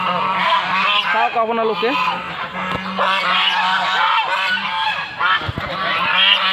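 A large flock of geese kept at a temple in Nalbari honks loudly and constantly nearby, a dense overlapping chorus with a person speaking briefly underneath.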